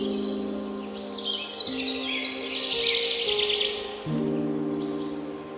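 Birds chirp and trill near the Kravica waterfall in Bosnia and Herzegovina, with clear bright calls in short bursts over a steady low background drone.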